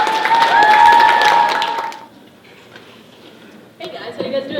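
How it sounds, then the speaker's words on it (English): Audience applause for a poetry team at a benefit concert, a loud dense burst of clapping that fades after about two seconds, followed by quiet room noise and then a voice speaking. "So give them a round of applause."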